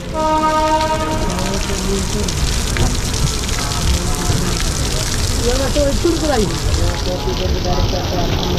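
A Poorabiya Express train departing Saharsa Junction rumbles steadily, opening with a long horn-like tone, while heavy rain hisses and someone speaks over the noise.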